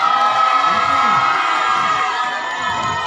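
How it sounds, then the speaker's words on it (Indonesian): A crowd at a dance competition event cheering and shouting loudly and continuously, with excited children's voices mixed in, close and filling the space. "Mana yang tepuk tangan dan juga suaranya?"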